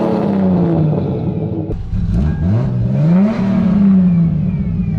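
Turbocharged Lexus IS300 engine revving hard on two-step launch control, loud and close, with rising and falling revs, a brief dip near two seconds, then a long sustained climbing rev.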